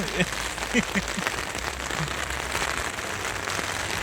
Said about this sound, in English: It is absolutely, oh you can probably hear it, absolutely chucking it down.